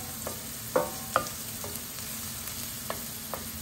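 A spoon stirs chicken stew in a pot, giving a few soft scraping knocks and clinks, two clearer ones close together, over a low steady simmer or sizzle.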